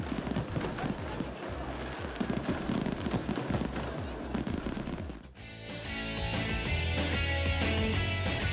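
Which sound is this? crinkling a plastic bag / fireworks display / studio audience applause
fireworks display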